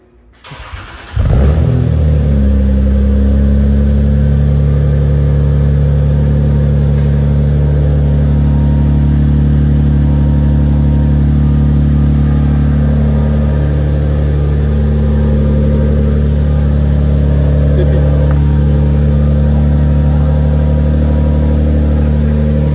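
A Toyota Supra's 2JZ engine cranks and catches, then settles into a loud, steady low drone with slight swells in revs, close by and without speech.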